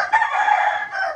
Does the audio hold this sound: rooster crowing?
yes